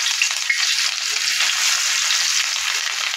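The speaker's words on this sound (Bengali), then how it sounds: "তাওয়াতে মাছগুলো দিয়ে দেবো।" Rohu fish coated in salt and turmeric frying in hot oil on a tawa, a steady bright sizzle holding at an even level throughout with no voices.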